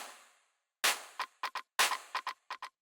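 Techno percussion loop built around a clap, with sharp, bright hits arranged in a syncopated pattern after a short fading tail, dry and close with no voice.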